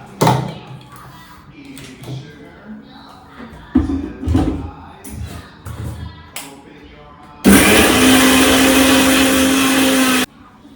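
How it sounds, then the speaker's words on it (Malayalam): Kitchen mixer grinder whirring loudly for about three seconds as it blends mayonnaise with salt and pepper, a steady motor roar cutting off abruptly, preceded by clattering and clinking of utensils. "ഉപ്പ് ഇട്ടിട്ട് പിന്നെ നമുക്ക് മിക്സിയിലൊന്ന് അടിച്ചെടുക്കാം"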